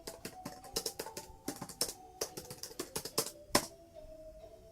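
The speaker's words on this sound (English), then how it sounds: "Watch me type "choo choo dude" into the internet with speech marks" Rapid, uneven keystrokes on a computer keyboard, close and clear, clattering in quick bursts with short pauses and one louder final press, with no talking.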